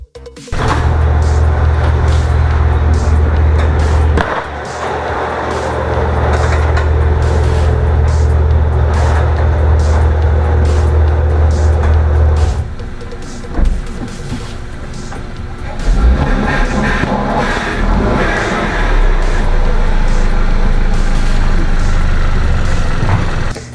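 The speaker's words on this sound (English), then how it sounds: "Start my car up." A car engine starts and runs steadily with a loud low rumble for several seconds, cuts out briefly, then runs again with revving toward the end, heard up close during vehicle maintenance.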